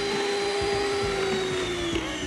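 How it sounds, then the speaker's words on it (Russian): An electric mixer whips sponge cake batter with a steady, close motor whine and a faint rhythmic churning underneath, running continuously without any talk. "Ну вот, наконец-то замолчал миксер."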